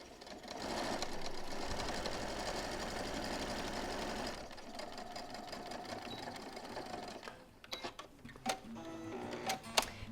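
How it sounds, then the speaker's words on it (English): A sewing machine runs steadily stitching straight quarter-inch seams joining rows of a memory quilt made from baby-grows, a dense continuous whir for about four seconds, then softer clicks and handling taps as the fabric is repositioned. "you're just going to be sewing all the way straight along here"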